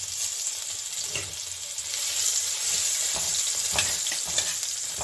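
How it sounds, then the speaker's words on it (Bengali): Crushed garlic sizzles steadily in hot mustard oil over a cumin tempering, a close, continuous crackling fry that grows slightly louder partway through, with no talking. "রসুনটা একটু ভাজা ভাজা হলে মানে কাঁচা গন্ধটা চলে যাবে"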